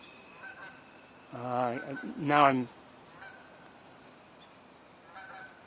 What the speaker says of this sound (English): I hear a Canada goose.